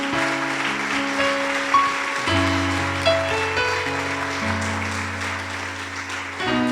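Church congregation applauding louder, a broad wash of clapping beneath sustained organ or keyboard chords, steady and fairly full throughout.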